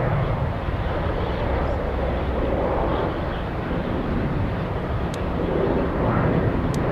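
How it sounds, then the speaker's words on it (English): A Cape Air Cessna 402, a small twin-engine airplane at Boston Logan, gives off a steady broadband engine roar that holds at an even level throughout, moderately loud and fairly distant, with no talk over it. "Little Cessna 402 stealing the spotlight from the big Dreamliner from Abu Dhabi."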